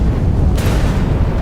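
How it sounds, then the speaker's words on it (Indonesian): A stock of bombs blows up in a film, a deep booming blast bursting over a loud low rumble that sits under the whole moment. "Dia terpaksa meledakkan stok bom yang dibawanya."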